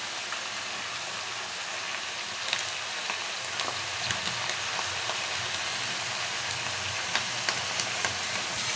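Brinjal, onion and green chilli pieces fry in a hot pan, giving a steady broadband sizzle and hiss with small crackles and pops scattered throughout, no voices.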